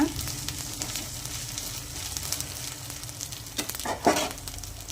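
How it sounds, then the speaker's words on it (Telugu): Spices for a tempering sizzle steadily in hot oil during preparation of a deep-fried brinjal dish, a close, continuous crackling hiss with a few brief louder bursts near the end. "పోపు వేగిన తర్వాత"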